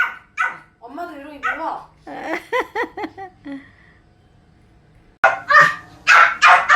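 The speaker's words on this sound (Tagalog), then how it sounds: "tahol ng tahol sa nanay niya." A small dog barks and yips repeatedly, close to the microphone, and mixes in whiny, whimpering barks. Someone talks to the dog between the bursts.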